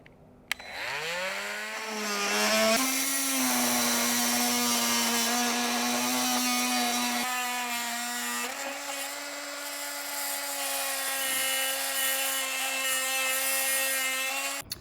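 A multi-tool fitted with a coarse timber blade revs up and cuts continuously through pine decking, its high whining drone holding loud and close for the whole stretch.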